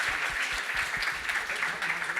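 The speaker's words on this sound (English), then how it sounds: "Could you give a hand of applause to these lovely people?" Dense, continuous audience applause fills a conference session at the Global Education and Skills Forum 2019, many hands clapping at once in a steady roar that honours teacher researchers.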